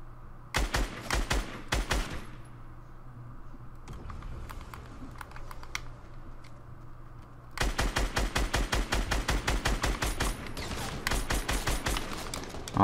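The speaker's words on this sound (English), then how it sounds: "Oh, how did none of those shots hit him?" Long bursts of rapid automatic gunfire in Fortnite crackle loudly in dense rhythmic volleys, pausing for a few quieter seconds of scattered shots before another sustained burst, with no voices.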